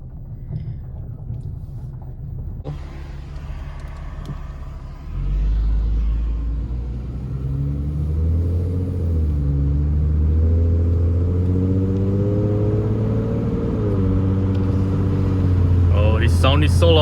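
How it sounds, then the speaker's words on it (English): A Ford Mustang V6 with automatic transmission revs and accelerates on a test drive, its deep raw engine note climbing steadily and heard from inside the car. "I love the sound of those V6. They sound so raw."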